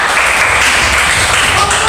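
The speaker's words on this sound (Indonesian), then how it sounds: "Oke, tepuk tangan dulu peserta." A crowd claps in a dense, continuous burst of applause, loud and close, lasting a couple of seconds.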